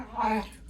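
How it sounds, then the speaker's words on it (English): A dog in the background gives a short whimpering growl, a brief nasal whine rising and fading within a second. "Apologies if you hear my dog in the background."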